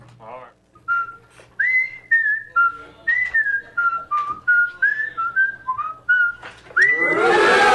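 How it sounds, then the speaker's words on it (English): A person whistles a tune close by, a series of short bright notes in a steady rhythm, ending in a burst of noise. "stop whistling"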